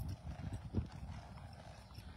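A horse gelding's hooves clip-clop in a steady, quick rhythm, faint and a little distant, with no voices.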